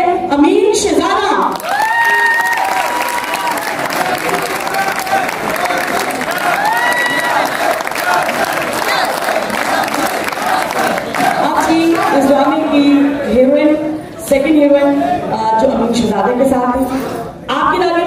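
A theatre audience at Rawalpindi Arts Council claps and cheers for an actor, loud sustained applause mixed with whoops and shouts, while a presenter talks over the noise.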